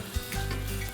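Prawns drop into a hot pan with a soft thud and immediately break into a close, loud, steady sizzle that continues without letup.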